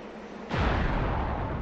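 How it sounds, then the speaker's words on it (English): A deep explosion booms in the distance of a video game battlefield, a sudden low rumble that rises after a quiet moment and rolls on with a sustained roar. "Lots of explosions in the distance."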